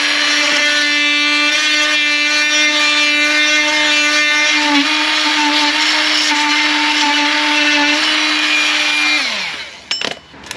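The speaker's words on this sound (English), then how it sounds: "Little tip for you when cutting soil pipe, I always use just a multi-tool, mark all the way round" A multi-tool buzzes steadily as it cuts round plastic soil pipe during a bathroom remodel, a loud close whine with a high-pitched vibration that holds for about nine seconds and then winds down.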